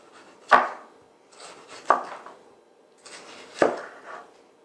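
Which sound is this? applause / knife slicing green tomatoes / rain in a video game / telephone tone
knife slicing green tomatoes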